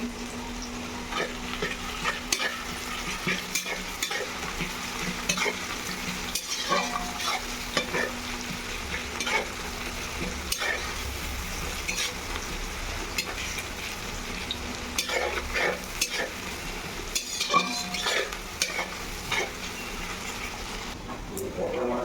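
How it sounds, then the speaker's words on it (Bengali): Onions frying in a pan with a pinch of salt are stirred over and over, a continuous loud sizzle with repeated scraping and clattering strokes, and a voice talks now and then over the cooking. "একটুখানি লবণ দিয়ে দেবো, পেঁয়াজটা যাতে তাড়াতাড়ি নরম হয়ে যায়"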